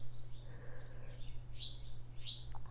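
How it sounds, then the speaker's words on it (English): Birds chirp outside in faint, high, scattered tweets over a steady low hum, several short calls spread across the clip with no talk. "The bird came back."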